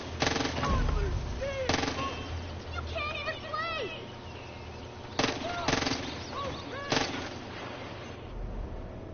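Bursts of automatic gunfire from the video game Far Cry 5, played on a PS4 Slim, crack out in several loud volleys with gaps between them, over a constant game soundscape with speech underneath.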